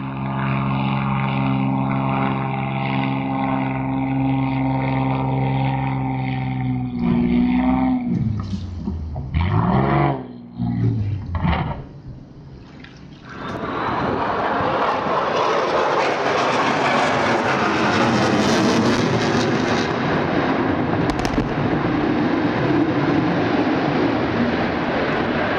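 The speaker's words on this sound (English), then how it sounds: "During takeoff from Lake Sammamish in Washington, a seaplane encountered a powerful lake swell that eventually caused a loss of control and a tragic crash." A seaplane takes off from Lake Sammamish in Washington and meets a strong swell. A steady engine drone with tonal hum changes pitch, stutters briefly, then gives way to loud, broad rushing noise that fills the rest of the clip.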